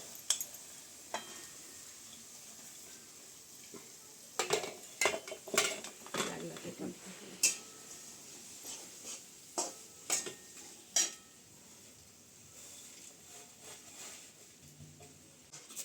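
A spoon scraping and knocking against a pan as jaggery is stirred until it melts, for sesame laddoos, with irregular close clinks over a faint sizzle.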